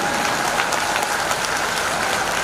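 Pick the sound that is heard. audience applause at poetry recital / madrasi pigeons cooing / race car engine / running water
audience applause at poetry recital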